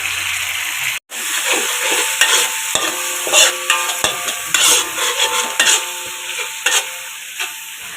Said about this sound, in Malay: goreng garing sikit, bagi kering sikit